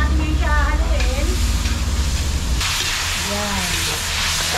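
Chicken giblets being stirred in a frying pan for adobo: a steady, close sizzle and hiss runs throughout with light stirring noise, while a person talks over the cooking.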